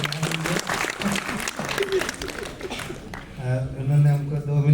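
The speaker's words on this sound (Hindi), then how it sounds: "एक बार जोरदार ताली।" An audience at a Hindi comedy poetry gathering bursts into sustained applause, a dense steady clatter of many hands filling the room, with a voice speaking over it as the clapping continues.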